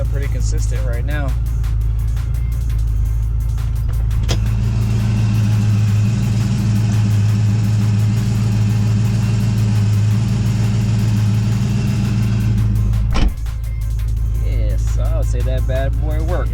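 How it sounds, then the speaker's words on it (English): A Chevy's engine idles steadily at a low, even rumble for several seconds, with a sharp thump near the end and voices talking before and after. "Yeah, it's idling pretty consistent right now."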